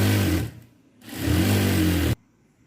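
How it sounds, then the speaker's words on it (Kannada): A sewing machine runs in two loud close bursts while stitching along both sides of blouse fabric, whirring steadily with a short pause between them and then stopping abruptly. "ಈಗ ಇಟ್ಕೊಂಡು ನೋಡಿ ಅಕ್ಕಪಕ್ಕ ಸ್ಟಿಚ್ ಹಾಕೋಬಿಡ್ತೀನಿ"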